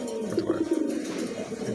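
A pigeon coos in a low, rolling series of soft, close calls, with a faint background hiss; no talking.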